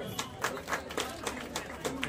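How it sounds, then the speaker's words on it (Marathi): An audience at a student award ceremony clapping, a rhythmic round of applause from a crowd in a hall, steady beats under a background of voices. "टाळ्या वाजवूयात."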